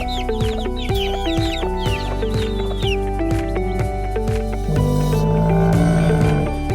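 A hen and her chicks cluck and cheep in a children's animal segment, chirpy peeping and soft clucks layered over loud, steady music with a plucked rhythmic beat.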